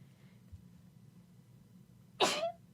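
A single sudden human sneeze bursts out near the end, loud and close, after a stretch of low background hum.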